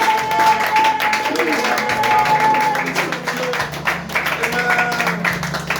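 A church congregation applauds and cheers the Lord during a French-language worship service, with steady, full clapping and crowd noise sustained throughout.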